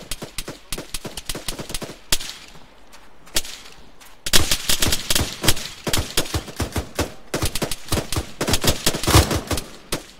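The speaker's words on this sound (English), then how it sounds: "Someone's shooting at us." Gunfire in Arma 3, a combat game: sparse distant shots at first, then a loud, rapid run of close rifle and automatic fire in irregular bursts, with no talk.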